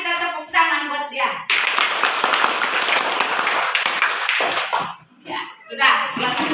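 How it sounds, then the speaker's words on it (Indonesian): A small class of children claps for a fellow student, a quick burst of sharp hand claps that dies away after a few seconds, with children and a teacher speaking before and after. "Mari kita tepuk tangan buat dia"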